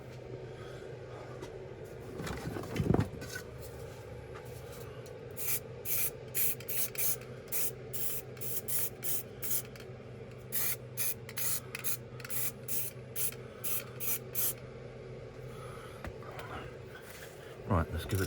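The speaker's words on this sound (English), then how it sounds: "going to get a little bit of primer on here and then give it a dust over with some sort of matte paint" Short bursts of primer spray hiss onto a Hornby Dublo 3-rail Duchess of Atholl model locomotive, roughly a dozen quick puffs in an irregular rhythm, close by over a steady low room hum.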